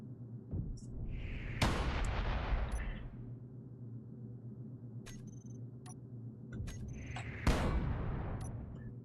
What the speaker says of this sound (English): Assault cannon turret.